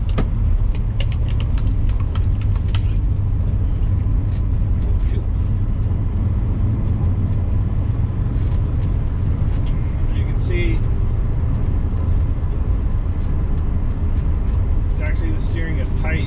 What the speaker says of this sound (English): we are headed off to take a drive around the block in our 66 Mustang